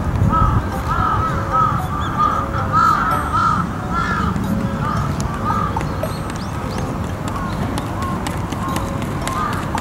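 Crows caw repeatedly in a noisy outdoor scene, harsh calls rising above a steady rumble of background noise and movement throughout.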